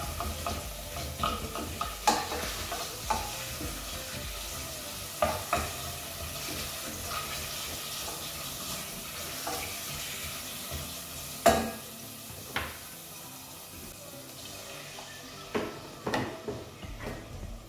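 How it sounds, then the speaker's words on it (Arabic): Chicken frying in a pan while being roasted until tender, a steady sizzle running throughout with occasional stirring clatters and utensil knocks on top, no voices. "خليها تشوي الدجاج حتى يذوب"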